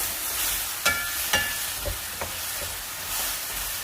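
A garlic green bean stir fry with cornstarch slurry sizzles in a hot pan while a utensil scrapes and clacks a few times through the steady hiss.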